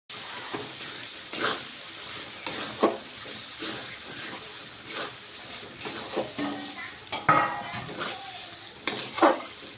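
Tomatoes and green chillies frying in a spice paste for chicken kosha, with a continuous close sizzle broken by regular spatula scrapes and clatters against the pan.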